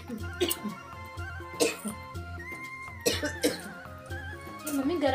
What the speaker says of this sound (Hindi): आपकी खांसी रुक जाएगी इससे।